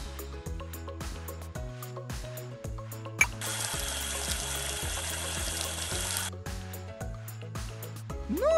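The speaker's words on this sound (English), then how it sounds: "Move the hose around to rinse Tango off." In a children's video game, a hose sprays water to rinse a dog, heard as a steady gushing rush in the middle, set against bouncy cartoon music.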